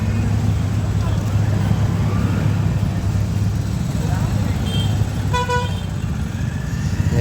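Road traffic on a busy city route during a motorbike ride from Ratnagiri to Mumbai, a steady loud engine and wind roar with a brief horn toot near the end, and voices talking over it.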